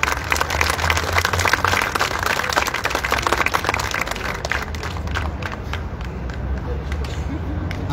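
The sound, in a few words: audience applause for the consul general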